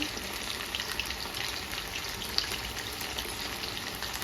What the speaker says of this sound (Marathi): आणि मस्त ते असे फ्राय करून घ्यायचं